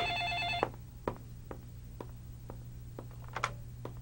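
A telephone bell rings briefly, a bright trilling burst indoors, then stops, followed by scattered soft clicks and knocks.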